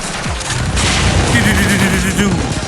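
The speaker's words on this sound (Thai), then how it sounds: "ยิงมัน ยิงมันเลยชิโรโกะ ยิงมัน" Rapid gunfire and booms in the anime shooter game Blue Archive, loud and continuous, mixed with in-game voice and tonal effects.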